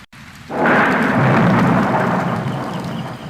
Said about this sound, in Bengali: রাস্তা শুনশান, টিপটিপ করে বৃষ্টি হচ্ছে।